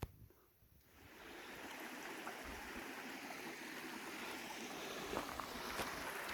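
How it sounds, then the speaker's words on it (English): Water pours steadily near a mountain trail on the Pacific Crest Trail in the Alpine Lakes area, a constant broadband rush that swells in after a quiet first second and holds evenly to the end. "Check this waterfall out."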